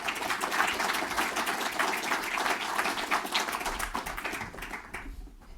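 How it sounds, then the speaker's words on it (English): Audience applause at an investment forum in London, dense sustained clapping from a crowd that stays loud throughout and begins to fade away at the very end. "Please, a round of applause for him."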